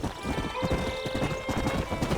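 Horse hooves clip-clopping at a steady trot in Red Dead Redemption, close and rhythmic, with a brief whinny on top and faint background ambience.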